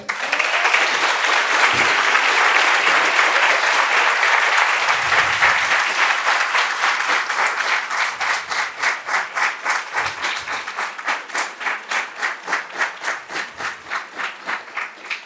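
An indoor audience at a talk at a country club breaks into sustained applause, a dense wash of many hands that thins toward the end into a rhythmic, synchronized clapping pattern.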